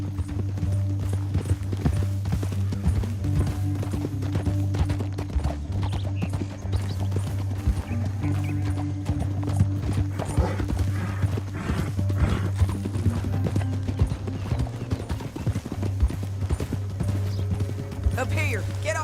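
Horse hooves clip-clopping in a Red Dead Redemption 2 canyon ride, a steady rhythmic trot over a low droning score, with voices talking now and then and a horse whinnying briefly.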